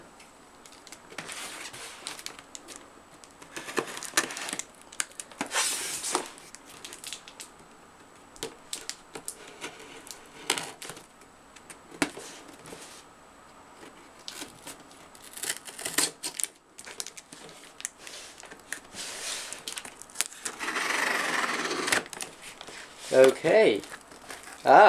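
A plain brown cardboard box wrapped in tape is opened to unbox a Focusrite Scarlett 2i4 audio interface, with repeated crinkling, tearing and rustling of packaging in bursts while someone talks now and then.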